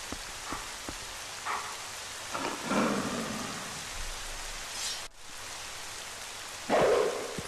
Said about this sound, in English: How fitting that there is rain.